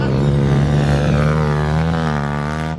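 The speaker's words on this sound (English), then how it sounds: "Ripping the pit bikes already." A pit bike engine revs on a dirt track, a loud, steady buzzing drone whose pitch wavers slightly up and down for about three seconds before cutting off.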